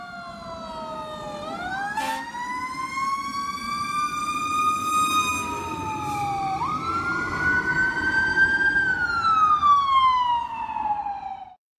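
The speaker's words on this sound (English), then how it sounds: "He could hear a siren through the telephone." A fire truck siren wails loud and continuous, its pitch sweeping up and down in long glides for about twelve seconds, alone with no voices and a faint rumble beneath.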